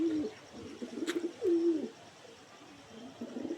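Pakistani Kamagar pigeons cooing close by, a few low rolling coos with short pauses between them, fairly quiet and with no voices.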